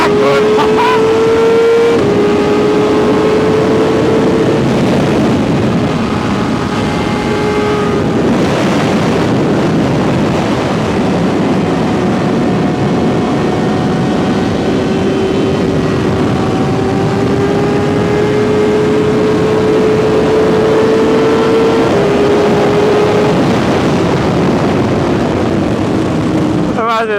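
Superbike engine, an S1000RR or ZX10R, held on the back wheel in a wheelie through a bend: a loud, continuous engine drone that rises and falls with the throttle, buried in heavy wind roar throughout.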